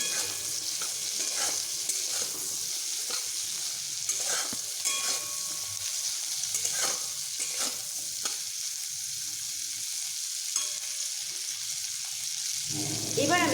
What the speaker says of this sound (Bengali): ঢাকা খুলে করলাগুলোকে আমি আরও একটু ভালোভাবে ভেজে নিচ্ছি